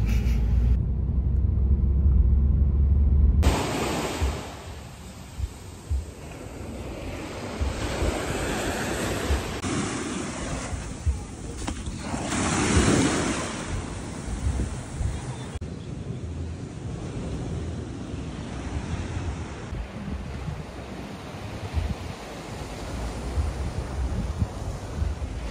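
Ocean surf at a Hawaiian surfing spot on an evening, steady and loud, with rolling breaking waves and wind rumble over the microphone and no talking.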